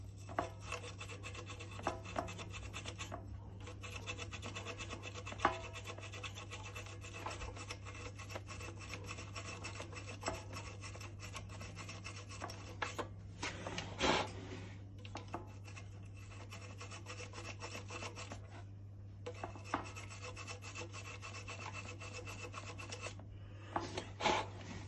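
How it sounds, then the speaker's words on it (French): A small, worn brass wire brush scrubs a part of a vertical air compressor. The scratchy scrubbing runs steadily up close in repeated strokes with a few short pauses, over a constant low electrical hum. "Petite brosse en laiton, il n'y a plus trop de poils."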